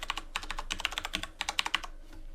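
Rapid keystrokes on a computer keyboard as a root password is entered for an ESXi host, with a quick, uneven run of close, crisp clicks and a couple of brief pauses. No voices.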